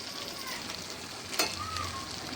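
Red chili masala and coriander powder roast in a pan with a steady, soft sizzle close by, broken by one brief clink partway through.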